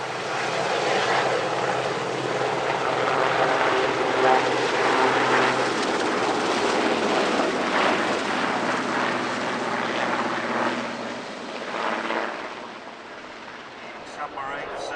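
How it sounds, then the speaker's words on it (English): Steady, loud rotor and engine drone of an ex-Royal Air Force Sea King HAR-3 helicopter passing overhead at an airshow, sustained throughout and fading slightly toward the end. "Here's a much larger Rotary asset, one of historic helicopters' Sea Kings"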